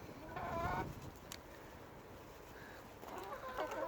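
Chickens cluck and murmur in a poultry shed bedded with deep straw on a farm in winter, a few short close clucks and calls over quiet background.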